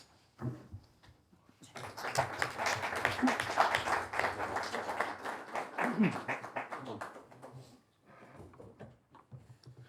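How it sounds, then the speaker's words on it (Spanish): Audience applause for a speaker at a book presentation in Gijón: a single early clap, then a sustained burst of clapping from a small crowd for several seconds before stopping, followed by faint room noise. "Dele, por favor, un afectuoso aplauso"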